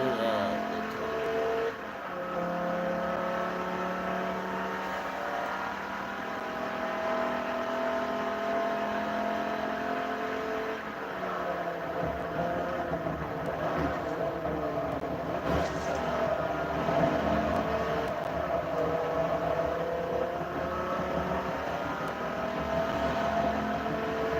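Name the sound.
race cars driving in video game Forza Motorsport 3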